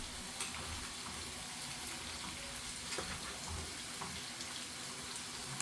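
French fries deep-frying in hot oil for cheesy bacon fries: a steady, dense sizzle and bubbling that runs evenly throughout, close and continuous with no talking.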